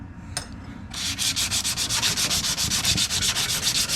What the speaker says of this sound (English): we're creating all these cool surface scratches because it's such a low grit sandpaper